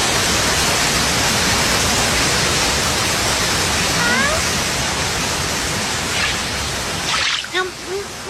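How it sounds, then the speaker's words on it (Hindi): Steady, dense rushing water like a waterfall fills most of the clip, then drops away near the end as brief chirps and movement sounds emerge. "अरे ये आवाज तो मेरे ख्याल से यहाँ झरना है।"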